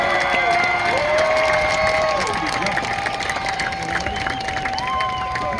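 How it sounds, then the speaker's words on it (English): Graduating high school seniors applaud their families in a large ceremony crowd, clapping mixed with cheers and shouts, with whistles or tonal sounds and voices over a continuous crowd roar. "give them a big round of applause for helping you get all the way to school"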